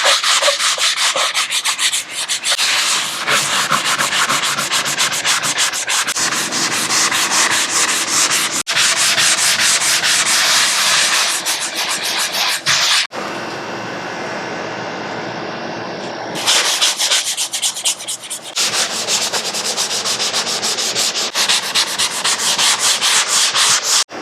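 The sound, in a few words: sanding drywall with a sanding block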